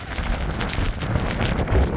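Strong, very cold wind roars steadily into the microphone with a broad, buffeting rush and low thumps, constant for two seconds, in the hills at Chandwad.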